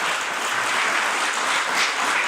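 An audience claps steadily and loudly throughout, a dense continuous applause with no voices on top.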